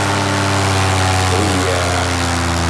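A paramotor trike engine runs steadily and loud through the whole stretch, a constant droning buzz during the takeoff run.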